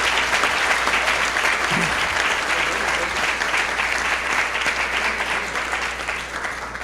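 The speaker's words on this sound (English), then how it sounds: "can I get a big round of applause for Dr. Gonzalez?" Sustained applause from a luncheon audience honoring an education award recipient at a school district Teacher of the Year event, a dense steady wash of clapping that fills the room without pause and tapers slightly at the end.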